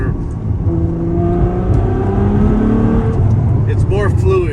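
A 2018 Ferrari 812 Superfast V12 accelerates at full throttle in sixth gear, heard from the passenger seat as a loud, steady engine drone with rising harmonic tones that sweep upward near the end.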